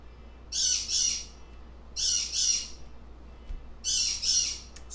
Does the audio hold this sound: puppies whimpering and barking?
no